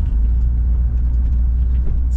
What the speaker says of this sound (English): It's got a nice, just a slight hum, that exhaust note, and if you're behind it, there's just a little bit of rumble